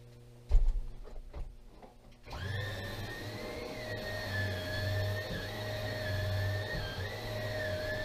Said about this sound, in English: I brought the vacuum cleaner in.